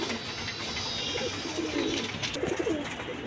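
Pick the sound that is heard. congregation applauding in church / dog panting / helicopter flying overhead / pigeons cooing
pigeons cooing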